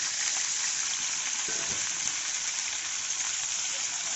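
Okra (bhindi) fries with black cumin seeds in a home kitchen pan, making a continuous, even sizzle like light rain with one brief stirring scrape partway through. No talking.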